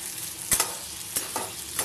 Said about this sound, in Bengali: শুধু এবার নেড়ে চেড়ে ভাজার পালা